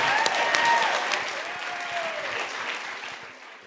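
Wedding reception guests applauding the groom's parents, a steady wash of clapping from a crowd that slowly fades, with a few faint voices mixed in.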